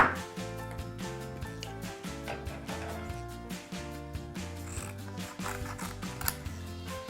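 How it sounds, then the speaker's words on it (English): Scissors snipping through paper or card to cut out fox puppet ear shapes, a rapid series of crisp close cuts and clicks in irregular bursts, with no talking. "Now we've just got to cut these out."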